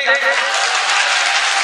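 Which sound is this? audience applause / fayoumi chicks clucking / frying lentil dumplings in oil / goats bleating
audience applause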